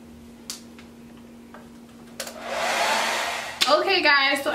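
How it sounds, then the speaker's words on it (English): A hair dryer starts up partway through and blows steadily onto a sprayed braided wig with a loud whooshing hum, shifting in tone near the end, after a few faint clicks. "just put the blow dryer on it,"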